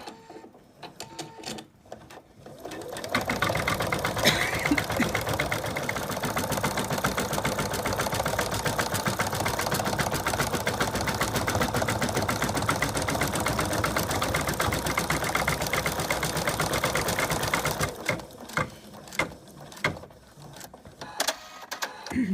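An in-the-hoop embroidery sewing machine stitches out the final stitches of a Digger the Dog design, a loud steady rapid mechanical whirring and clatter that runs for about fifteen seconds before stopping, with quieter handling noises before and after.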